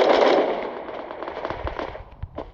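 Sniper rifle gunfire in the shooter video game Bullet Force: a burst of crackling shot noise that fades, followed by a few sharper single reports, with no talk over it.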